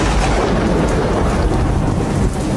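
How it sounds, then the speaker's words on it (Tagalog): Heavy rain pours down and thunder rumbles low through it, a dense, loud and continuous roar. "My God, it's raining."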